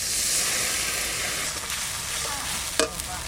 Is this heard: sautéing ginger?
yes